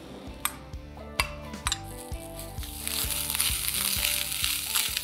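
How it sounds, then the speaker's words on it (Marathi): Grated dry and fresh coconut with coriander seeds and poppy seeds roasting in a pan, with sharp clinks of a spoon against the pan over a steady dry sizzle that grows fuller partway through. "आता ह्याला आपण परतून घ्यायचंय आणि हे जे वाटण आहे ना हे छान लालसर झालं पाहिजे"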